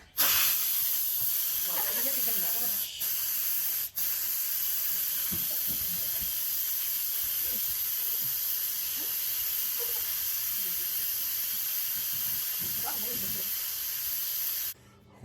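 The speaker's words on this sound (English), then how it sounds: "Release the steam." Steam venting from an Instant Pot pressure cooker making beef soup, a steady loud hiss running nearly the whole time with two brief dips, while a person talks faintly underneath.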